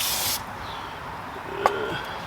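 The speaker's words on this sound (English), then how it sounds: "spray this all down with fluid film" A short burst of Fluid Film aerosol lubricant hisses loudly at the start, sprayed on a Ford Fusion front wheel bearing area, then quiet background with a brief knock.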